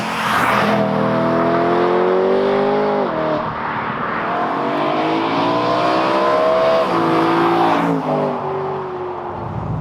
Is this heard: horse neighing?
no